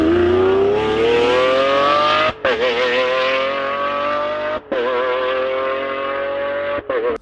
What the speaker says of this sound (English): Lamborghini is known for their big, naturally aspirated engines and the sound these cars create.